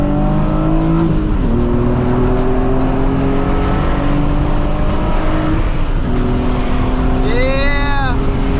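A Nissan 350Z accelerating hard in second gear on a freeway, loud rising engine roar with gear-shift dips, heard from inside the car with a shout of excitement near the end.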